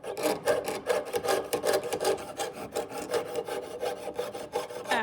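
A hand saw rasps rapidly back and forth through metal, a steady rhythmic stream of short scraping strokes, close and fairly loud with no voices.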